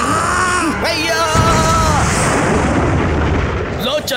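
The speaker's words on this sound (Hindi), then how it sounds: "लो चला पटाखा आसमान में और शुरू हो गई आतिशबाजी।" Cartoon firecrackers and fireworks burst loudly and continuously in the sky during a Christmas scene of the Hindi Oggy and the Cockroaches cartoon, with whistling rising tones over dense crackling booms.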